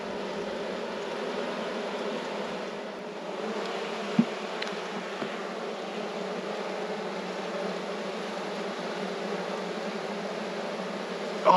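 Honey bees buzz steadily around a rescue hive, a dense, even hum of many insects up close, faint overall, with a couple of brief knocks near the middle and end.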